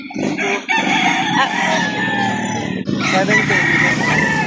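Several chickens and a rooster crow and cluck together, close and continuous, at a native chicken breeder's farm in Lipa City, Batangas, with a brief lull partway through.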